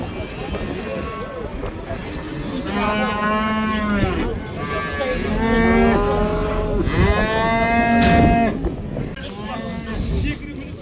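Cattle at the Kyzylorda livestock bazaar give several loud, drawn-out moos one after another, close by, over a busy background of people talking.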